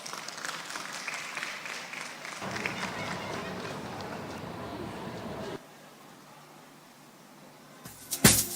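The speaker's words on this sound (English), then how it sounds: "So let's welcome Nketa with a round of applause." An audience at a Ghanaian fashion show claps in a dense, steady wash of applause that drops to a quieter murmur partway through, followed by a brief loud burst at the end.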